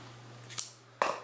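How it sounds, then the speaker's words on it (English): Scissors snip through crochet yarn while a slouch beanie hat is being made: two short, crisp cuts close by, the second sharper, over a steady low hum. "then I'll cut this yarn"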